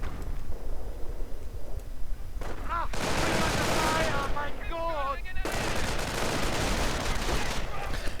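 Browning automatic rifles fire in a World War II strategy game, sustained bursts of automatic gunfire with heavy volleys and overlapping shots amid battle noise, while a commentator talks over the action.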